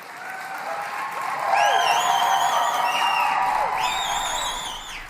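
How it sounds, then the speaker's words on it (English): Loud, sustained applause from a large crowd at an Assembly of First Nations vote, with whoops and cheers rising over the clapping and holding steady before easing off. "the decision was met with thunderous applause"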